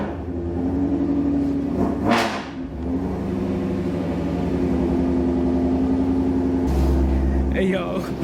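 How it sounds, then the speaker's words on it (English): A twin-turbo Ford Mustang engine in loud exhaust mode idles and revs up close, a deep throbbing rumble with a sharp surge early on and a heavier burst near the end, while people talk over it. "I had to put it in loud mode, man."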